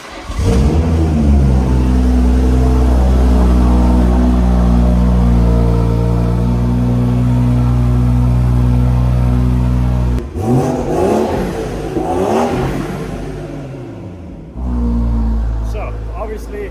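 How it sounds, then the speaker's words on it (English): A BMW M140i's six-cylinder turbo engine revs up close, rising in pitch and holding steady before dropping off, with a voice speaking briefly near the end. "Very typical BMW 6-cylinder turbocharged sound"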